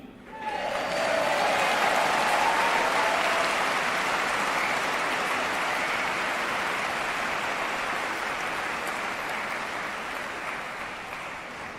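A large audience clapping at a Dubai talk, a dense, steady wash of applause that swells quickly and stays loud before slowly fading, with faint voices mixed in.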